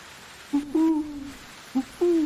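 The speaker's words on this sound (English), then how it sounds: "Okay, we have an owl to hunt, supposedly." Owl hooting in the video game Medieval Dynasty, two short pairs of clear hoots, each a brief note followed by a longer drawn-out one, alone against quiet background.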